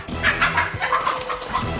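A hen clucks and squawks repeatedly while two ducks chase and attack it around a farmyard. The calls come in quick, close, agitated bursts that carry through the short stretch.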